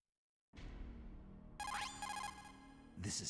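A codec call rings through to the Colonel in the GameCube remake of Metal Gear Solid. A low electronic hum gives way to a loud, rapidly pulsing electronic ring tone with a rising sweep, then a final bright burst.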